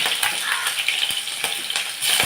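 Onion and ginger sautéing in a pan, a steady close sizzle with a few brief clicks of stirring throughout, no voices.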